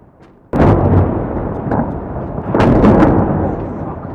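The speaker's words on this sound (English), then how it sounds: "explosions began to be heard in Iraq" Explosions during the 2003 invasion of Iraq: a sudden loud blast lands, and a second heavy boom follows about two seconds later, each trailing into a long, rumbling roar.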